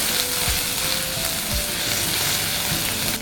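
Ginger and green chili paste frying with onions in a pan for a vegetable biryani gravy, a steady loud sizzle with faint stirring scrapes, close up and with no talking.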